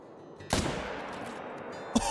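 A rifle fires at a whitetail deer in a hunting video game, one sharp loud crack with a decaying tail, followed by a second brief thump near the end.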